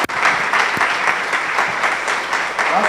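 An audience claps steadily at a memorial lecture, a dense, even round of applause throughout.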